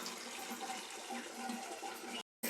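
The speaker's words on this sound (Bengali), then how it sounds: "এগুলো কিন্তু একটু ধুয়ে নিতে হয় ধুলে একদম ফ্রেশ থাকে" Water pours steadily and hisses loudly as fresh long beans and ivy gourd from a village farm are washed. The sound stays constant, then cuts off abruptly near the end.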